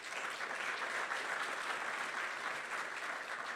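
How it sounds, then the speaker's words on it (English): Audience applause at a State of Black America 2019 event, a steady dense clapping that fills the whole stretch evenly without fading, with no voices over it. "Let's give them a warm round of applause."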